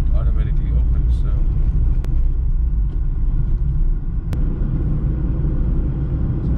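A car rolls through a toll gate on the GST highway between Chennai and Pondicherry, its low, steady road and engine rumble filling the cabin at an even level with a couple of faint clicks.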